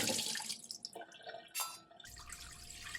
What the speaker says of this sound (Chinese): 再把这花生再冲洗一下